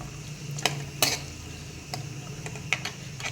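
Carrots sauté in a pan over a low flame for an instant pickle. A steady soft sizzle runs throughout, broken by a few sharp clicks of a utensil against the pan.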